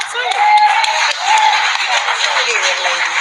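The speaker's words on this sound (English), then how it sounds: "Get them a clap too." Applause at a village board meeting in Dolton after a motion passes: a steady patter of clapping hands from the room, partly buried under someone talking over it.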